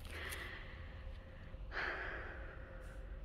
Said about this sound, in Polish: Ciężko się oddycha w tej masce.